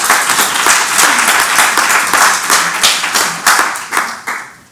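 A hall audience at an academic institute greeting applauds in dense, loud clapping close to the listener, sustained throughout and tapering near the end.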